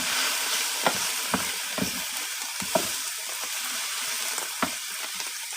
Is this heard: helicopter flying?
no